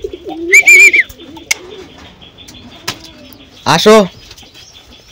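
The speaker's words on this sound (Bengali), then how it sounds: "কবুতরের লফটে বেরোতে ভয় পাচ্ছে, আসো।" A pigeon at its loft gives low, soft coos, with a few brief wing flaps and taps nearby. A person's voice calls out twice, loud and close.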